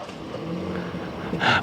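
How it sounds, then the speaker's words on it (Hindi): A BMW 530i M engine idling just after starting, a steady low hum close by, with a brief brighter click or rustle near the end. "इंजन स्टार्ट हो गया गाड़ी का,"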